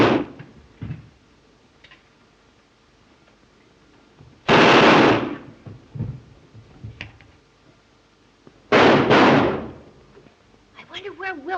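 Two loud bursts of gunfire, likely machine-gun style, ring out several seconds apart, with quieter thuds and clicks between them in an early 1930s comedy film soundtrack.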